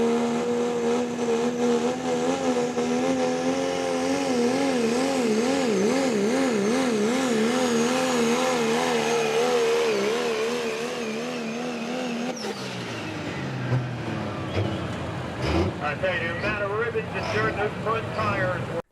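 A 2017 Ford F-250 pulling truck roars at sustained high revs with a wavering engine tone through its winning pull at a truck and tractor pulling event, then the engine abruptly drops off near the end as crowd and announcer noise rise.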